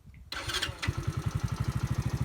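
An Alpha 125cc motorcycle engine cranks and catches, then settles into a steady, even idle thump, heard close up with no talking.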